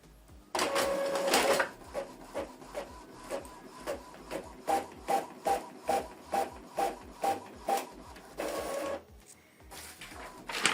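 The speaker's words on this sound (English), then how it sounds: "This is from window, so it's going to print a test page." An Epson EcoTank ET-2876 printer runs off a test page nearby, its print head sweeping back and forth in a dozen or so evenly spaced mechanical bursts, loud and close, with no talking.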